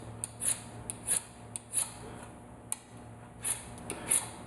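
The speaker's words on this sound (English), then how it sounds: "I'm using the bigger file right now." A large file scraping the edge of a concave Howard Hill broadhead, heard as close, crisp strokes in an uneven rhythm of about eight rasps with short gaps between them.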